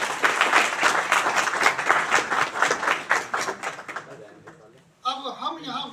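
Audience at a PGDAV Evening College water-conservation event applauds Jaladhikar, loud rhythmic clapping that fades out, followed by a voice starting to talk.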